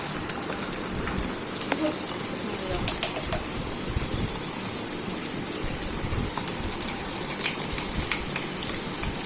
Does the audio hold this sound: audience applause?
no